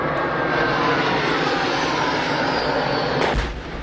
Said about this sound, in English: these pictures clearly show jet planes being used against fighters from the Kachin Independence Army